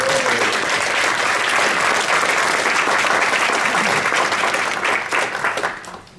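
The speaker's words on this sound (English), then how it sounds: "Give yourselves a round of applause." An audience at a Toastmasters Table Topics contest claps, a dense, even round of applause that holds steady for several seconds before tapering off at the end.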